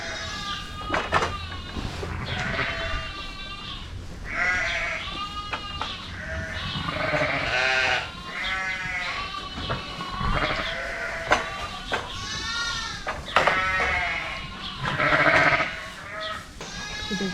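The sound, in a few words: sheep and lambs bleating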